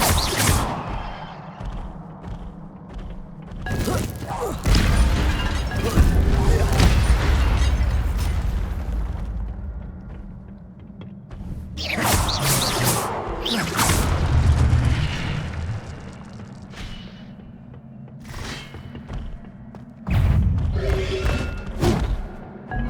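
Incendio fire spells are cast in Hogwarts Legacy during combat, setting off loud booming bursts and rumbling blasts in several heavy waves, with roaring fire and impacts that rise and fall across the fight.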